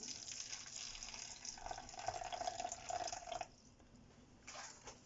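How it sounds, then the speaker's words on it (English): Boiling water poured into a container for jelly, a steady hissing liquid stream for a few seconds that stops abruptly, followed by quiet and a brief trickle, recorded close and softly. "I'm now using 140 milliliters of boiling water"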